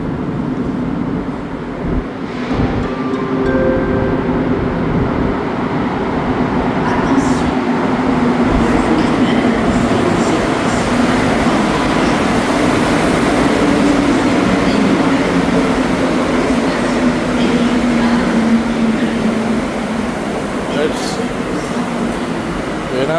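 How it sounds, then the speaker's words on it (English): A Montreal Metro Azur train pulls into an Orange Line station bound for Côte-Vertu, a loud steady rumble of rubber-tyred wheels and motor hum filling the platform with rising and falling tonal whine, sustained throughout with faint voices underneath. "it sounds like my train is coming here in the Côte Vertu direction"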